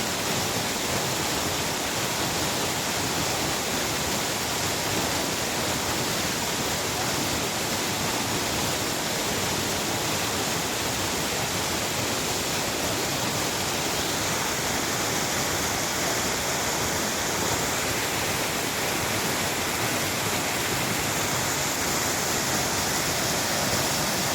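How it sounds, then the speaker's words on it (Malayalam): Loud, steady rush of falling water, close and continuous, like a waterfall or heavy splashing, with no voices. "വെള്ളത്തിൻ്റെ സൗണ്ട് നല്ലോണമുണ്ട്"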